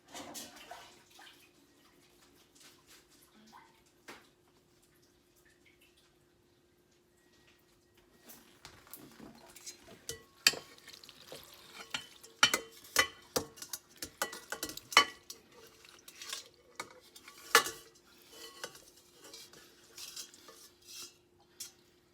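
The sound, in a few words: macaroni being added and stirred in a bowl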